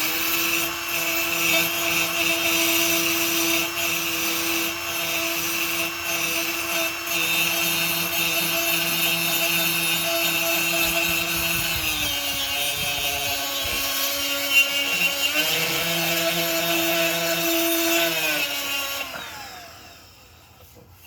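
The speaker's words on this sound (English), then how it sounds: "I can clean that up with the sander." A power sander whines steadily while smoothing the ported housing of a turbo rotary engine, loud and close with a sustained tonal drone that shifts pitch slightly midway and then spins down and stops near the end.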